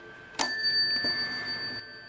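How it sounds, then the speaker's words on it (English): A 1916 W.L. Gilbert mantel clock strikes the half hour with a single bright note on its cup bell, loud and close, ringing on with a slow, clear decay. "And it strikes a half an hour."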